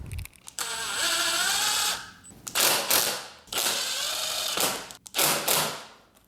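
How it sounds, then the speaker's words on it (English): Several ratcheting mechanical bursts, close and fairly loud with short gaps between them, as bolts are tightened on the stabilizer of a Kawasaki ZX10R motorcycle during lowering work. "now I can go ahead and tighten both bolts"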